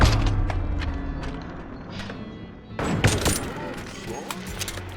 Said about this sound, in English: And it does sound like a staple gun